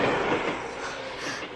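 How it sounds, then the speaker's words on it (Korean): A train runs on rails as a radio drama sound effect, a dense, loud rushing rumble that fades slightly over a brief moment, with no voices. "윤다희 언니에게 작별 인사도 못한 채 도망치듯 선천 고향집으로 가는 기차에 몸을 실었다."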